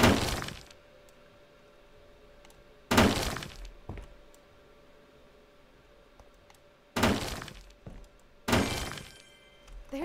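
Glass and rubble are smashed during a hotel renovation video game: four loud, sharp shattering crashes, each separated by several seconds of near quiet.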